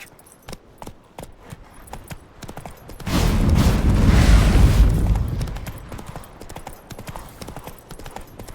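Galloping horse hooves in The Witcher 3, a fast steady clip-clop rhythm, close and loud, swelling into a heavy rumbling burst midway before settling back to quick hoofbeats.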